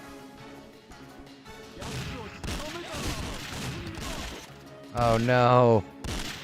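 Bursts of gunfire in a Nintendo GameCube shooter crackle amid clattering game sounds, with a voice talking over them and a brief loud tonal effect near the end.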